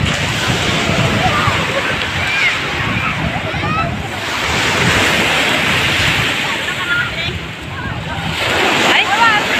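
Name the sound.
ocean waves and wind at Bocana Beach, Puentes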